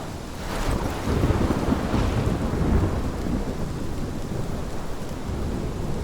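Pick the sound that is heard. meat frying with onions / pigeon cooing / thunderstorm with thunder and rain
thunderstorm with thunder and rain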